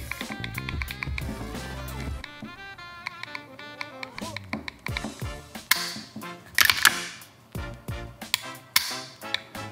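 Sharp, crisp mechanical clicks from the trigger pull and reset of a Staccato P 2011 pistol come in quick succession, close and fairly quiet, with scattered louder snaps.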